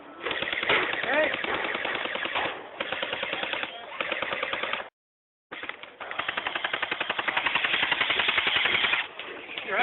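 Airsoft guns fire in rapid automatic bursts during an outdoor skirmish raid on an outpost, loud and nearly continuous with a brief pause midway, with shouted voices mixed in.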